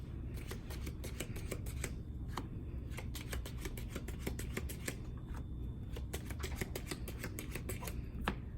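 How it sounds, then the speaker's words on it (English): Playing cards dealt out seven at a time at a casino Pai Gow table, a close run of quick crisp snaps and slides, card after card in an uneven rhythm, with no talk. "So we'll go ahead and deal out 7 cards"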